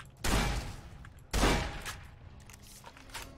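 Two booming shotgun blasts from the Fallout: New Vegas video game, about a second apart, each a loud sharp crack with a rumbling tail, followed by quieter game sounds.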